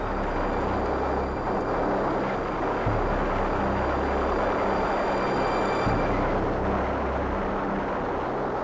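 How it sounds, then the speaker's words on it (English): Wartime footage of German fighter planes attacking bombers, carrying a steady, loud roar of aircraft engines with a rumbling broadband drone that holds throughout, no voices. "William Wyler filmed spectacular scenes of German fighters attacking the bombers."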